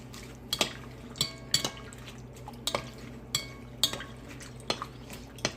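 Utensil clinks and taps against a bowl while chicken inasal marinade with salt is stirred, several sharp scattered strikes over a low steady background, fairly close and moderately loud, no voices.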